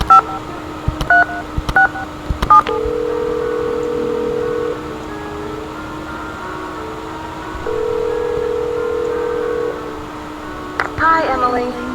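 DTMF telephone keypad tones in a Nancy Drew mystery video game, a quick run of short dialed beeps followed by two long steady ringback tones separated by a gap, loud and close, with a faint voice starting at the end.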